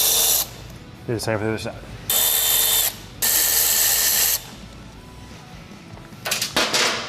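A ratchet driving 7mm bumper screws on a 1999-2004 Ford Lightning pickup clicks in several loud bursts of rapid pawl ratcheting, with someone speaking briefly between them.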